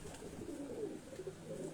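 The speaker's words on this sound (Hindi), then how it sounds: "तो ये जो कबूतर आप देख रहे हैं" Pigeons coo softly and repeatedly at a house, low rolling calls in a quiet, slightly distant setting with no talk.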